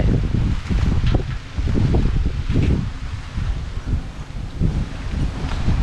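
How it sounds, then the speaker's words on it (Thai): Strong wind gusting around workers' lodging in rural Thailand, a steady broadband roar with rustling leaves rising and falling in close, loud surges throughout. "ลมแรง"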